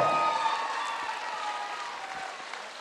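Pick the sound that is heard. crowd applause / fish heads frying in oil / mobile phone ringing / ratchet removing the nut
crowd applause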